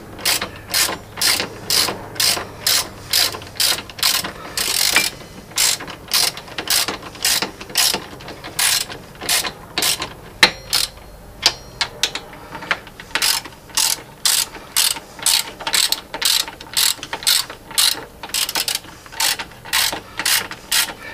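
Front brake caliper bolts on a 2000 Honda 400ES being tightened with a ratchet, a long run of rapid, evenly spaced clicking bursts with brief pauses between strokes, close and clear, with no voices.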